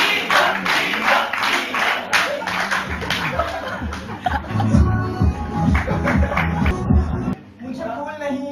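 Audience clapping and murmuring at an Urdu poetry mushaira, a dense wash of applause with scattered chuckles filling the hall, swelling midway before cutting off near the end.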